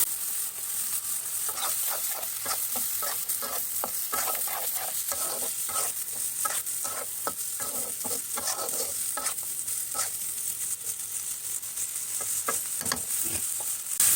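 Jackfruit seeds cook with green chilies, chili powder and loitta and chepa dried fish in a pan, a dense continuous sizzle under rapid, busy scraping stirs throughout, close and steady with no talking.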